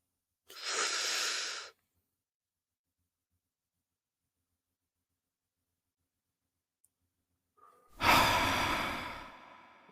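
Deep breaths heard up close in a quiet space: a long inhale, several seconds of silence, then a strong, drawn-out exhale that tapers away, with no talking.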